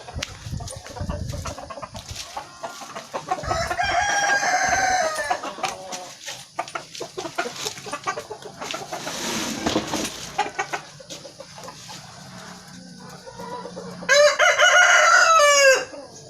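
Roosters at a storm-damaged backyard coop crow loudly several times, with one long crow near the end, over scattered clucking and rustling from chickens close by.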